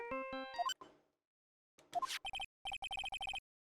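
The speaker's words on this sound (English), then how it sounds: "It's a good ringtone, actually." An in-game phone ringtone from an Ace Attorney game plays as a short run of rising electronic tones, then after a brief pause a rapid series of clipped, even beeps, loud and with no talking.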